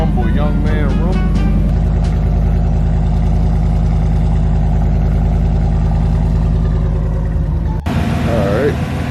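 A 2015-2019 Chevrolet Tahoe's engine idles with a loud, steady low rumble that continues under a voice, with a brief sharp clunk near the end.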